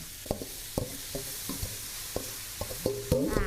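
Mee sua noodles are stir-fried with carrot and pork in a pan over medium-low heat: a spatula scrapes and knocks in repeated strokes over a soft sizzle, growing busier near the end.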